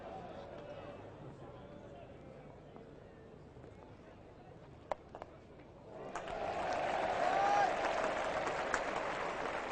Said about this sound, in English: Now there's something else for the crowd to cheer about